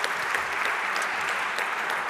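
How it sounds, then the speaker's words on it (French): Steady audience clapping fills a university conference hall after a presentation, a continuous wash of many hands at moderate loudness with no voices over it. "On va t'applaudir de nouveau"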